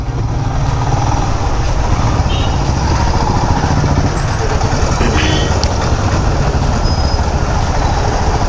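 A motorcycle rides along a road near Dhanushkodi in southern India, giving a loud, steady engine drone and wind rush that continues unbroken throughout.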